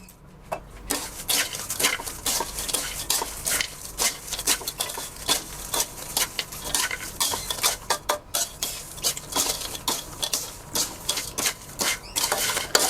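Chili paste with fried chilies, kaffir lime leaves and crispy pork cracklings is stirred in a pan, producing a repeated scraping and clacking rhythm of utensil against pan, fairly close and steady with no talking.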